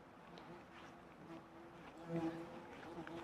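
Bees buzzing among lavender plants in a farm field, a faint steady hum of several insects droning close by, with a louder buzz passing near for a moment.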